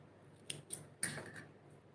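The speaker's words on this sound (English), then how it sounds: "now you can just chain 1 and cut your yarn" Scissors snipping yarn after finishing a crochet piece, three quick close blade clicks in under two seconds, quiet and alone.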